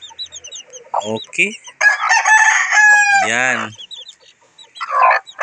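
Pet chickens clucking near and loud, with a rooster crowing in a long harmonic call midway, while someone speaks briefly over the birds.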